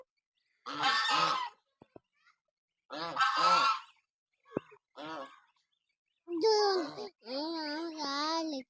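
Ducks give loud, close, harsh honking quacks in short bursts, with brief pauses between calls and a voice heard at moments.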